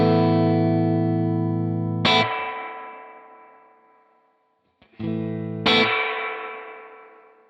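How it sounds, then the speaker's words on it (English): Electric guitar through a Crazy Tube Circuits White Whale V2 reverb pedal as its tone control is adjusted: sustained chords ring with a bright, splashy attack and a shimmering reverb tail, a decay, a short gap, then another chord swelling and fading. "Next, we've got our tone control of the reverb circuit."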